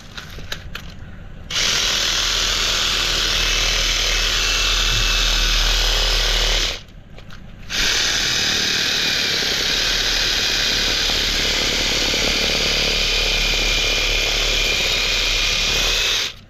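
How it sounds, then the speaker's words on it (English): A Ryobi power tool chops mullet fish into halves for crab pot bait, giving two loud, sustained whirring bursts separated by a short pause, with a brief quieter stretch at the start. "I'm going to cut them with the Ryobi."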